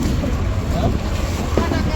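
A tractor's low, steady engine rumble runs throughout at an onion market, dense and continuous with wind-like noise on top, a loud rough drone close by.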